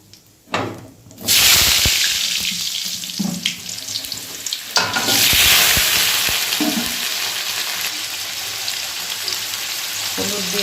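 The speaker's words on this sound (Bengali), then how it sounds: "এখন এই আলুটা, ওলের রসার আলুটা ভেজে নেব।" Potatoes drop into hot oil tempered with whole cumin seeds and a bay leaf, bursting into a loud, sustained hiss that settles into a steady sizzle with occasional stirring clatter.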